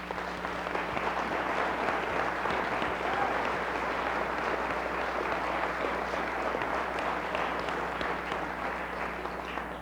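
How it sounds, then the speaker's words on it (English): An audience at a 1996 Martin Luther King program applauds youth and children performers: a long, thick wash of clapping from a large hall, steady and sustained for about ten seconds over a low electrical hum. "would you join me in a round of applause for them once again?"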